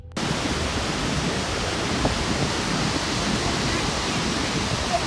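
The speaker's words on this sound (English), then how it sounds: "waterfall." Steady, broadband rushing of a Yellowstone waterfall, a constant roar of falling water with no breaks.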